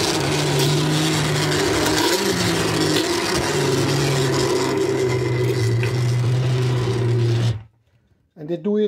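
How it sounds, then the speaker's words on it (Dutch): A blender pureeing Thai pumpkin soup whirs loudly and continuously with a steady motor drone for several seconds, then cuts off abruptly, followed by a brief quiet moment and a voice. "En dan gaan we hem pureren."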